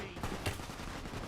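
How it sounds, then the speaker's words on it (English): Gunfire in Fallout: New Vegas from attacking Legion fighters, a few sharp shots cracking out at a moderate distance within a little over a second of otherwise quiet play. "Who is shooting at me?"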